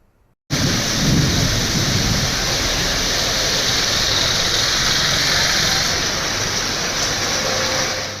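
Morning thunderstorm with rain in Mumbai, a dense, continuous roar of heavy rainfall starting abruptly and holding steady and loud to the end, with no voices.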